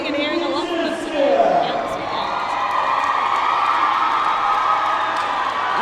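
A loud, dense crowd roars and cheers continuously at a Roller Derby World Cup 2018 match between Team Indigenous and Italy, with whoops and shouting voices layered into a steady wall of noise.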